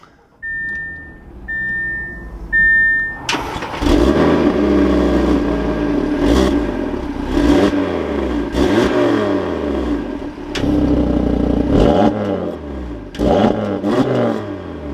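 A 2021 Audi TT RS engine cranks and fires with a sharp roar after a few chime beeps, then settles into a loud idle punctuated by repeated throttle blips and revs, close by and without talk.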